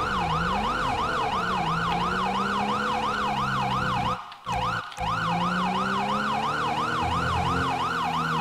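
A video game police car siren wails, sweeping steadily up and down, loud and close, with a low engine rumble beneath and two brief dropouts midway.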